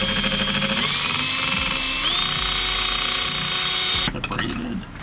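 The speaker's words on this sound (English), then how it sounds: "drill a small pilot hole right in the middle" A power drill bores a small pilot hole with a steady high whine that climbs in pitch twice as it speeds up, then stops abruptly, leaving brief clatter.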